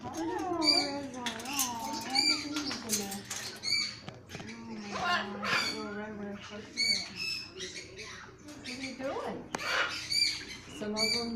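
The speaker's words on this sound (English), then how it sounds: "Beautiful birds." Many caged birds squawk and chatter in a large aviary, a busy overlapping mix of sharp calls and whistling cries, near and continuous, with a person's voice talking among them.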